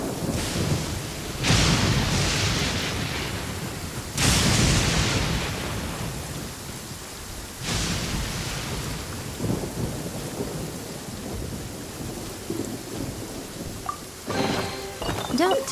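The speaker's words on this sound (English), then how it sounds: "If this rain keeps up, my fur will be dripping wet." Heavy rain hisses steadily in Genshin Impact while several loud thunderclaps crash and roll through the storm, with a faint metallic clatter near the end.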